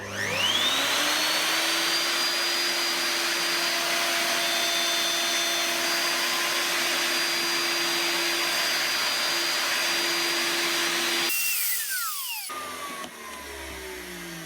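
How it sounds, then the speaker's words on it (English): A WoodRat router cuts through pine from the front face to the back, a loud steady high-pitched whine with no talk, ending as the bit pulls away and the motor winds down in the last few seconds. "now go from the front face through to the back"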